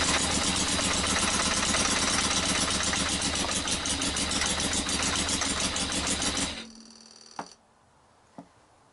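A Yamaha XJ900S motorcycle engine runs rough on one cylinder, a close, loud, rapid mechanical rattle that suddenly cuts out, followed by a couple of faint clicks in near silence.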